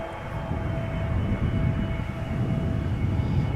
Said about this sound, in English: A320neo EasyJet arriving from Birmingham up next.